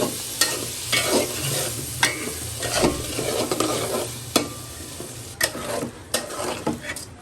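Vegetables with coriander, turmeric and chilli powder fry in a pan while a spoon stirs them, giving repeated clinking scrapes over a continuous loud sizzle, up close.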